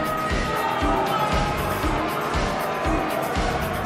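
A wrestling arena crowd in WWE 2K20 roars and cheers as two women wrestlers prepare to face off, a dense, loud, unbroken wall of crowd noise throughout.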